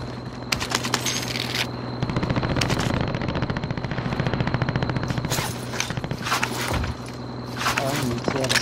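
Rapid bursts of automatic gunfire from the Warzone video game crackle almost continuously, with scattered single shots and a loud close burst near the end, while players talk over it.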